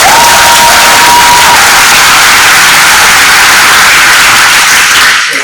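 Audience at a school open house for the William T. Dwyer Choice Program applauds and cheers celebrating a state championship; steady dense clapping and crowd noise fill the whole stretch, loud and close, fading at the very end.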